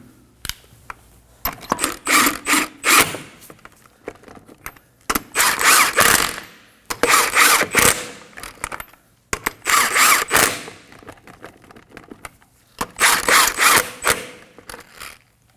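Hand ratchet snugging wheel lug nuts on a Kia Optima, heard as five separate bursts of rapid metallic clicking close up, each lasting a second or two with short quiet pauses between them.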